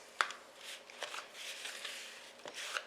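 A utensil scrapes and clicks in a bowl while mixing apple crisp topping with melted butter, soft irregular rubs and taps, close and quiet.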